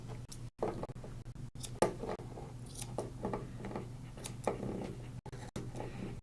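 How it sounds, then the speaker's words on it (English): Curved scissors snipping around a terrier's paws at a grooming table, a steady series of small, close clicks and soft cuts over a low background hum. "you can use curved scissors to help you make the shape"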